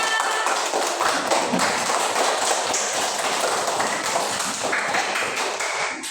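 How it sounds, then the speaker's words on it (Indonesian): A class of children claps together in a classroom, a dense sustained patter of many hands that swells and then tapers off near the end, with no talking over it. "Tepuk tangan dulu semuanya"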